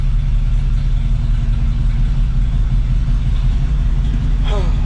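An old car with no brakes idles warm on about quarter choke, a steady low rumbling engine note that holds evenly throughout at close range, a brief squeak near the end.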